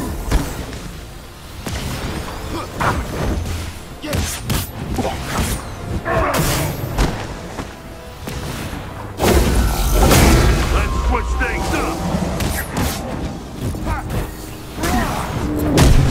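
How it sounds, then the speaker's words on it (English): Heavy cannon fire in the Marvel's Avengers: War for Wakanda game on PS5, loud booming blasts in rapid succession mixed with whooshes and battle effects. "He is shooting the cannon."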